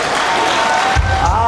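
Wedding guests at a celebration in Charentsavan, Armenia, clap in a continuous crowd patter while a voice talks over it near the microphone.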